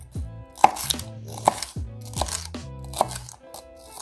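A knife chops pepper on a cutting board in a home kitchen, sharp distinct strikes coming in an uneven rhythm, close and clear with no talking.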